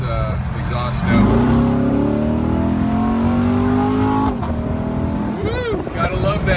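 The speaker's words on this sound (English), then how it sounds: "It has a real nice exhaust note." A yellow 2016 Corvette Stingray convertible growls as its engine revs up in a rising sweep, then eases off and climbs again, loud and close while driving on an open road.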